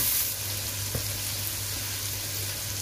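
Onion frying in a pan, a steady soft sizzle that runs throughout with a low constant hum underneath and no talking.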